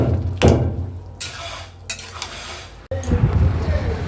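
Chopped banana stem being stirred in a cooking pot during a village-style recipe: a few scraping and clanking stirs over a faint sizzle, close by, with short pauses between strokes and no talk.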